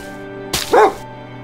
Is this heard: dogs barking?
yes